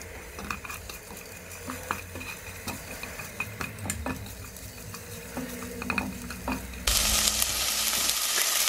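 Onions and garlic fry in a pan with a steady, close sizzle and scattered clinks of a utensil, and the hiss swells sharply louder near the end.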